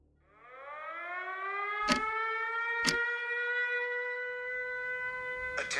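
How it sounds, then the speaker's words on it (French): Civil defense air raid siren rising and then holding a steady wailing tone across Kyiv during a drone alert, loud and sustained, with a few sharp knocks over it. "Dès qu'un drone survole la capitale, les sirènes résonnent dans toute la ville."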